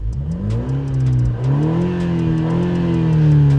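Sports car engine in Sport Plus mode revving hard, a loud close growl rising in pitch, dipping briefly, then climbing again and holding high, alone without talk.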